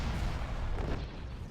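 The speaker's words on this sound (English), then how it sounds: "Ion cannon firing." An ion cannon firing in a Star Wars Rebels strategy video game, a brief low rumbling boom like distant artillery that fills the short moment without speech.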